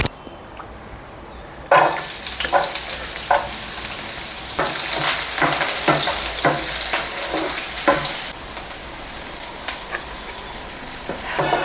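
Onions hit hot oil in a pan for a vegetable Manchurian gravy with a sudden loud sizzle, then a steady fry is punctuated by repeated stirring scrapes and clacks.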